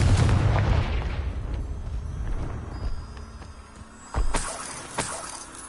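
Explosive magical blast from the Confringo spell in Hogwarts Legacy: a heavy boom opens the clip, then a rumbling tail, with two more sharp impacts later. No voices.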